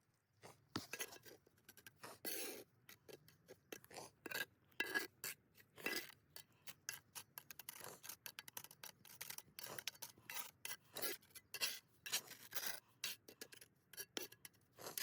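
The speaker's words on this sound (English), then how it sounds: "Finishing up the build by grouting all the joints with Type S mortar." A trowel scrapes and rubs Type S mortar into the joints between natural stone stair treads. The scraping comes in quick, rhythmic, gritty strokes, close up and fairly quiet, with no voices.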